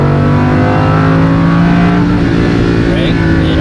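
A sports car accelerating hard on a race track, its engine droning loudly and steadily as it comes out of a turn, heard from inside the cabin.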